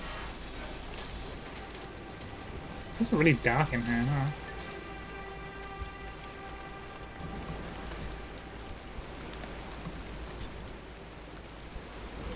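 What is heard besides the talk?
driving rain in video game Pacific Drive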